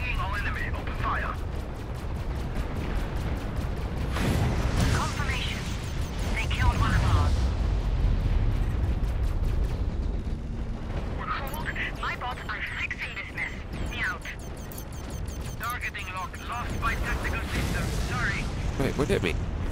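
Ship weapons fire repeatedly in the space combat game Fractured Space, with booming blasts and rapid crackling shots over a low rumble, while voices talk throughout.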